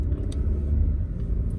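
A car drives down a street on the way to a car wash, a steady, close low rumble of engine and road noise with no talking.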